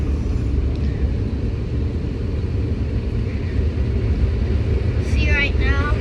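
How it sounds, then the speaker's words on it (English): Steady, loud broadband blowing from a car wash blower fan drying a car runs throughout the clip, with a voice speaking briefly near the end. "And now the fan. It's blowing some hard air."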